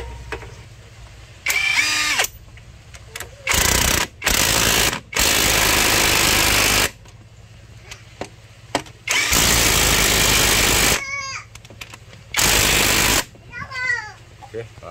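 A power tool tightens the 17 mm bolts on the left engine mounting of a Chevrolet Captiva, with several loud buzzing bursts of a few seconds each separated by pauses and talk from mechanics nearby.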